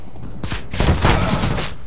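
A quick burst of gunfire in CS GO comes as a few close, sharp cracks after a short quiet lead-in, followed by a louder rattling volley that lasts about a second.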